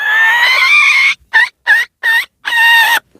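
A bantam chicken clucking loudly and close by, with one long drawn-out call followed by a run of short, separate clucks and a final longer cry.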